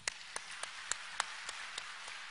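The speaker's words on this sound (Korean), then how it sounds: "우리 하나님께 영광의 박수 한번 하십시다" A small congregation at a Sunday worship service claps in a slow, steady rhythm of about nine distinct claps, faint and somewhat distant in a quiet room.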